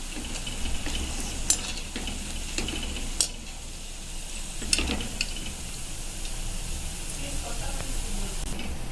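Vegetable Manchurian balls deep-fry in hot oil, a steady close bubbling sizzle with occasional light clinks and taps of a metal utensil against the pan.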